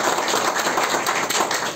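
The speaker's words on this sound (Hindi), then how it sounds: "एक बार जोर से तालियां बजाऊंगा" Loud, dense clapping from a crowd at a public gathering on a Mumbai housing scheme, a steady wash of hand claps filling the whole moment with no pauses.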